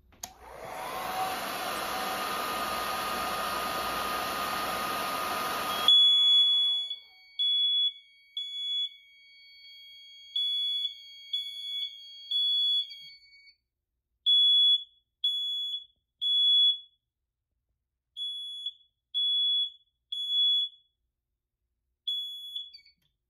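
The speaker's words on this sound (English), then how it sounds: "which will activate this mini horn." Notifier fire alarm mini horn triggered by a heat detector on an NFS-640 panel: a loud continuous blast, then a shrill electronic tone pulsing in repeated short bursts with brief gaps.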